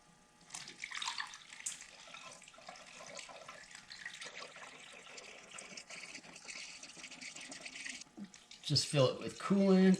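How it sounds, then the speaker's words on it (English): Fresh coolant pours into the radiator of a 2005 Chrysler Pacifica in a garage, a steady liquid gurgle and splash running throughout, getting louder and choppier near the end as the radiator fills. "Now I'll just have to dump in some new coolant and we should be good to go."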